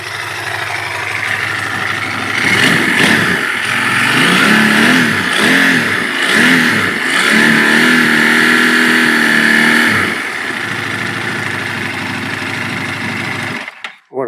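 A QJ Motor SRT900SX motorcycle engine idles, then is revved in several rising and falling bursts before settling back to a steady idle, heard loud and close, ending with a brief knock.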